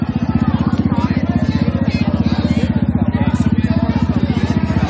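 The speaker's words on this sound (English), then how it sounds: "We got quite the little motorcycle crew over here." A group of motorcycles at a street protest: a loud, steady, rapidly pulsing engine rumble runs through the whole stretch, with crowd chatter mixed in.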